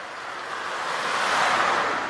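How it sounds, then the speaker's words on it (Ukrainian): Water foams and churns steadily by a city waterfront, a broad hissing wash of surf-like noise with some wind, swelling gently toward the middle and staying loud throughout with no talk. "А пенится вода."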